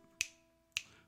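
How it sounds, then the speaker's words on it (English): Two crisp, sharp finger snaps about half a second apart, close and clear against a quiet background. "there's a place where you're supposed to snap your fingers twice"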